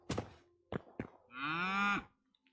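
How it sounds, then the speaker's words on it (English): A single cow moos in the video game Hytale, a drawn-out, fairly loud call that follows a few short thuds and fades out near the end. "Moo to you too, buddy."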